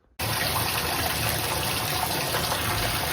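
Water gushes from a reopened Moen bathtub and shower valve after a cartridge replacement, starting abruptly at full force and then running as a steady, loud, broadband rush with no voices.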